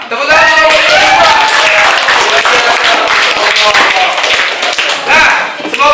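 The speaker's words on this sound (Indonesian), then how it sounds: "Tepuk tangan untuk kelompok" Classroom applause for the best presenting student groups, loud and sustained clapping from many hands, with voices talking over it.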